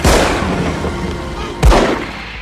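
Gunshots in a dramatic film scene: two loud, booming shots, one at the start and another just past the middle, over a dense, noisy background with no clear talk.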